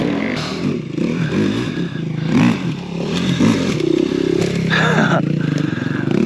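An enduro motorcycle rides a super enduro practice track with loud, rising engine revs and clattering, scraping passes close by, while someone talks over it.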